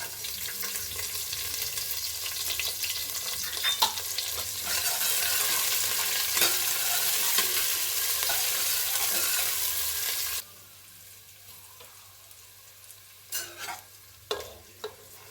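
Curry leaves, onion and two crushed garlic cloves frying in oil, a steady loud sizzle that suddenly drops away to a quiet hum, followed by a few sharp clinks of a utensil.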